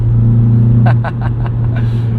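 A 2001 Honda CR-V with a B-Series engine and aftermarket intake drones loudly with strong induction noise, heard from inside the cabin as the revs change, under a man's speech.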